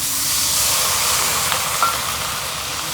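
Water poured into a pan of taro curry with dried fish hisses loudly into steam, a broad continuous sizzle with a couple of faint clinks, close and without speech.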